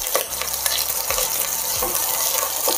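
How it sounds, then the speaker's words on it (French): Onions sweat in melted butter in a pan over lowered heat, giving a close, steady sizzle broken by brief stirring scrapes, with no voices. "on baisse un petit peu le feu et on vient faire suer nos oignons"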